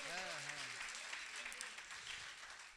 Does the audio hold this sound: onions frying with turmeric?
no